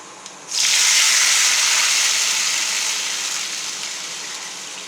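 Liquid for pepper rasam poured into a hot tempering pan, a sudden loud hissing gush that starts abruptly and then settles into a steady sizzle, close up with no talking.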